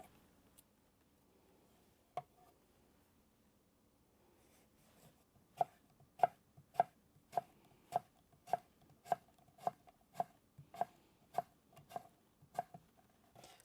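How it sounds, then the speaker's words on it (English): A knife slicing Seville oranges and lemons for marmalade on a board, an isolated chop followed after a pause by a steady series of crisp, evenly spaced cuts, close and clear against near silence. "So here we are, slicing up the last lemon."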